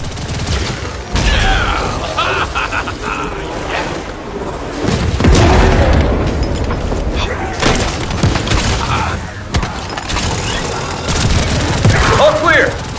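Dense rapid gunfire and heavy explosions fill a firefight at an outpost in The First Descendant, with repeated bursts and booming blasts, while voices speak intermittently over the combat.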